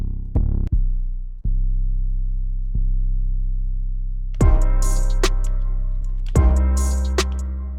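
Long booming 808 bass notes in an FL Studio trap beat sustain and slide under a kick, joined after a few seconds by crisp hi-hats and snare hits; steady, loud, no voices.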